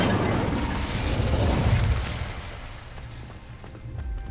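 A fire spell cast in Hogwarts Legacy whooshes out as a single broadband burst with a low rumbling roar that swells near the middle, then fades into a quieter crackling tail.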